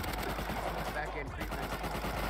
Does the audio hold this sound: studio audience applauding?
no